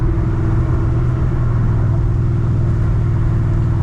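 A 900 hp supercharged car cruises steadily on a Memorial Day drive, its engine giving a loud, continuous low rumble with a constant drone and no pauses or talk.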